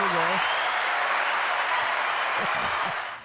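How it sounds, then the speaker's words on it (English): A live crowd at a sports fundraiser broadcast gives a steady round of applause that fades near the end, with a few voices talking underneath. "Can we get an applause for that, Larry?"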